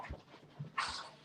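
Dogs panting and whimpering indoors, with soft low breathy puffs early on and a brief, louder whiny burst near the end, all fairly faint.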